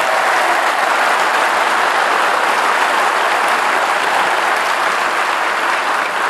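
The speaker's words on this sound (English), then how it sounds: "Can you give a round of applause to that?" A large conference audience at a cystic fibrosis foundation plenary session bursts into steady, dense applause that fills the hall evenly and loudly from start to finish, with no speech over it.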